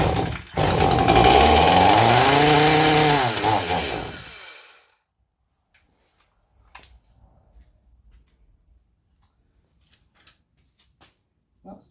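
An Echo CS-310 chainsaw just rebuilt after a carburetor cleaning fires up loud and close, revs for about four seconds with a wavering pitch, then cuts out, leaving faint clicks and handling noises.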